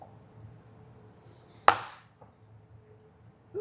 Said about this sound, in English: I'm just going to cut them up.